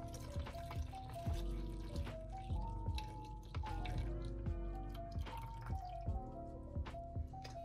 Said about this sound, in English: we're going to pour our mixture into the bag with the banana